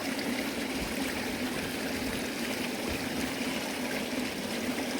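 A small forest stream flows steadily on a small-game hunting trip, giving a continuous, even rushing and trickling wash at moderate level with no talk.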